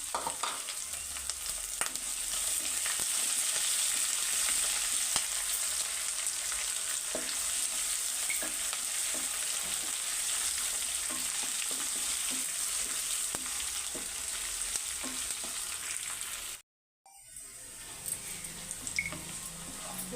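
Onions and green chillies fry in a pan with a continuous close sizzle, light stirring scrapes and small pops, and a brief dropout near the end before the frying resumes.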